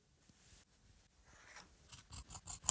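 Scissors trim excess inlay from a traditional tailored jacket panel. Quiet rustling of cloth gives way to a run of rhythmic snips that grow louder and closer, ending in a sharp final cut.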